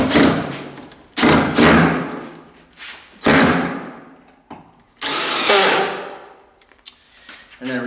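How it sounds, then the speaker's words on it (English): A power drill drives screws into a wooden floor cleat of a chicken coop, several separate bursts of whirring with thuds between, the longest burst near the end, all close and loud. "Go ahead and drive the screws in."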